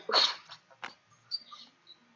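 A single sharp sneeze bursts out near the start, followed by a couple of short, softer breathy sounds and faint noises in a quiet indoor room, with no talk.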